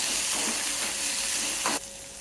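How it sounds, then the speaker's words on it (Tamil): Steady loud sizzle and hiss from chili, garlic, onion and rock salt sautéing together in a hot pan, close and continuous, then dropping off abruptly near the end. "மிளகாய், பூண்டு, வெங்காயம், இந்த கல் உப்பு எல்லாத்தையும் ஒன்றா போட்டுருவோம். சேர்த்து வதக்கணும்."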